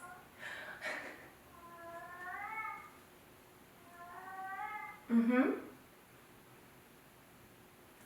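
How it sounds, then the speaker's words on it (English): A pet cat in an apartment makes a run of short, rising chirping meows in two bursts, then one louder, lower call near the end. The calls are close and clear against a quiet indoor hush, with no talk. "there's a term for that type of meow that they do"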